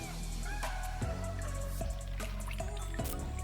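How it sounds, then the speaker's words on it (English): Water trickles and drips steadily as it fills a bundt pan used as a small tabletop fountain, with irregular plinks and soft splashes close by and no voices. "the water is going to come from the bottom, flow up into that bundt pan"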